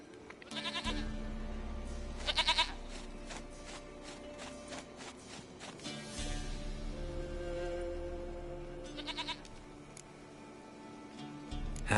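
A goat bleats in The Witcher 3, several short quavering bleats spread over the stretch against a low ambient background, fairly close and with no talk.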